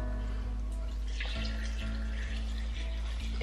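Tap water runs into a container while making sea moss gel, a soft, steady splashing stream under a low electrical hum and a few faint clicks.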